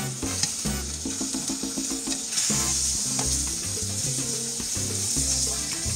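Chicken quesadilla frying in butter while a spatula presses it down, a steady soft sizzle running beneath prominent background music for the whole stretch.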